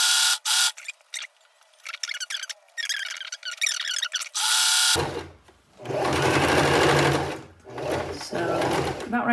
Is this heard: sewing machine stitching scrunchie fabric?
yes